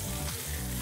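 A rib eye steak sears in a hot pan right after being flipped, giving a dense, continuous sizzle close by with a faint low hum underneath, brief and unbroken.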